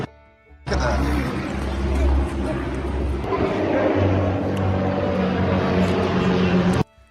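Loud, continuous engine roar of airplanes passing overhead at close range, holding steady for about six seconds before cutting off abruptly, with a low rumble underneath.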